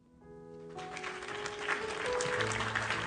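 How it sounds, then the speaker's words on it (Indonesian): Applause that swells in over a low musical tone, a soft, fairly distant wash of clapping building steadily through the short moment. "Tepuk tangan dulu."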